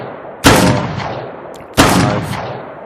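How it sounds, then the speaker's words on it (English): Two loud, close gunshots from a gun in the video game Beyond Sandbox crack out about a second apart, each with a long, fading echo tail. "So I'm gonna waste all the bullets in this gun."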